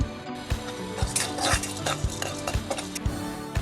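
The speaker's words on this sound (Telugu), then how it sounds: "మీడియం ఫ్లేమ్లో పెట్టుకోవాలండి గ్యాస్ డ్రై రోస్ట్ చేసుకోవడానికి" Chana dal and spices dry roasting in a pan over a medium flame for an ivy gourd coconut fry, with steady stirring and repeated close scrapes and clinks of a spoon against the pan, and no talk.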